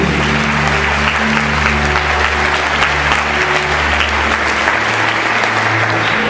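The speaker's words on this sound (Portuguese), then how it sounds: "Você pode dar um forte aplauso de louvor nesse Deus?" A church congregation breaks into loud, sustained applause of praise, a thick roar of many clapping hands close and full, with a low organ-like sustained tone humming underneath throughout.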